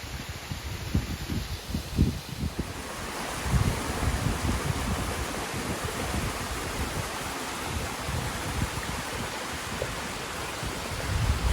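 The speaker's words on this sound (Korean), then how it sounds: "두 개의 폭포가 모여서 쌍용폭포라고 부릅니다." Steady broadband rush of Ssangyong Falls, twin waterfalls joining in Seoraksan National Park, a continuous roar of falling water with gusty low rumble, close and unbroken throughout.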